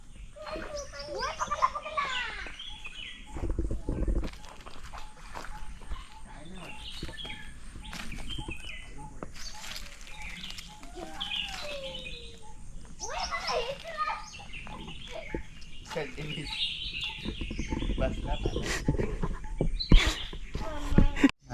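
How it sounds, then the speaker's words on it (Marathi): Birds call intermittently in a quiet countryside orchard of karonda, cashew and areca nut trees, their thin whistles rising over a hushed background while children's voices chatter nearby. "पक्ष्यांचा आवाज आहे का एकदम पूर्ण शांततेमध्ये"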